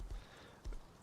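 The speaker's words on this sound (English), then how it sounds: "What's up with all the horses?" Horses on a farm in the video game Rust, two dull hoof thuds about half a second apart, near and moderately loud against a steady background hiss.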